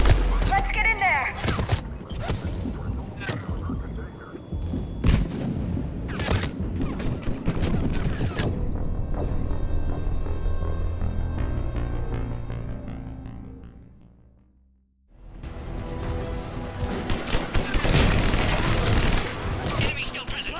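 Sustained gunfire erupts around a checkpoint in Mass Effect 3, with rapid shots and booms mixed with game music and voices. The noise fades almost to silence midway, then the firing and din return loudly.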